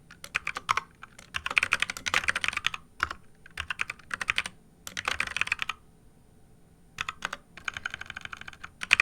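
Code being typed on a computer keyboard: close, crisp clicking keystrokes in quick bursts separated by short pauses, with no voices.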